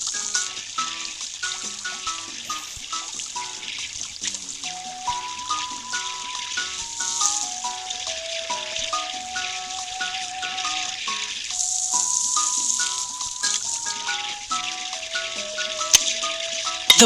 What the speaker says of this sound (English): The water is going through the pipe.